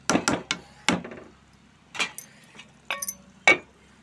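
Several sharp metallic clinks and knocks as a metal lid is set down and adjusted on a pot of brinjal, mango and prawn curry, spaced out with quiet between.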